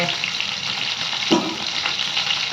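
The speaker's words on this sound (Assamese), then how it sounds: "এয়া মাছ ফ্ৰাই কৰি আছোঁ" Gorai fish sizzles steadily in hot oil in a pan, a continuous loud frying hiss with a brief stir or splash partway through.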